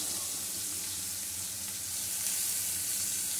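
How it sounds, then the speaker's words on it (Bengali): Grated onion, with a pinch of salt, fries in hot oil in a wok, giving a soft, steady sizzle that carries quietly and evenly throughout, with no talking. "পেঁয়াজটা আমি একটু হালকা ভেজে নেব।"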